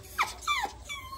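A French bulldog gives a few short whimpering, yelping vocalizations, two quick rising cries followed by a longer whine, close and fairly clear against quiet background.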